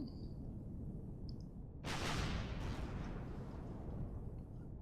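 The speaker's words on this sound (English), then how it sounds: "that should be the side guns firing." Side guns firing in the space game Empyrion Galactic Survival, heard as a sudden loud, broad roaring burst that starts partway through and holds steady for several seconds, with no talk.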